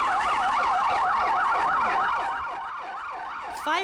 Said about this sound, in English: Fire engines raced to a residential area in the South Korean city of Gwangju